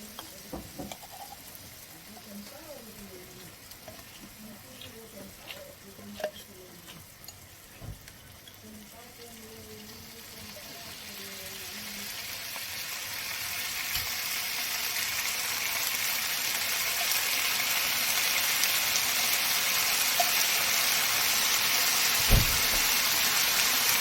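Chicken pieces frying in a pan with red Thai curry paste, a soft sizzle and stir at first that builds into a loud, steady hiss over the second half, with a few brief clatters.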